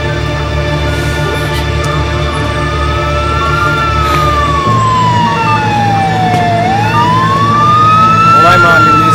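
An emergency siren wails loud and close at the scene of a gas poisoning, its pitch sweeping down and back up over a heavy engine rumble.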